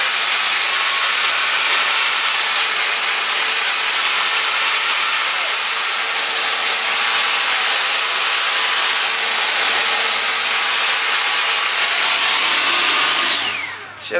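A hair dryer blows on a honey blonde highlighted wig, a loud, steady whirring roar held for about thirteen seconds before it cuts off near the end.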